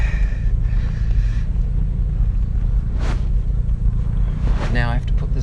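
A 1963 Jaguar Mk II engine pulls steadily in second gear, a close, continuous low rumble with a brief rise near the end, and a voice is faintly present.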